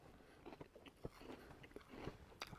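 Someone biting into and chewing an iced apple doughnut, with soft, close, irregular crunches and squishy chewing clicks at a low volume over a quiet background.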